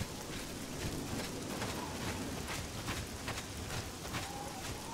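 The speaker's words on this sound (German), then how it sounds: "Und es regnet immer noch." Steady rain falls in a constant soft hiss, with scattered drips and faint distant rumbles beneath, no voices, in the video game The Elder Scrolls IV: Oblivion.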